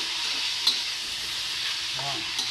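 Pork frying in a pan, sizzling steadily and loudly at close range, with a few brief scrapes of a stirring utensil cutting through the hiss.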